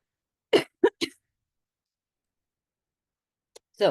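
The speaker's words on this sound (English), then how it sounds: "I have a little cough." A few short, sharp bursts close together, then a pause and two more brief bursts, like small coughs in a quiet room with no talking.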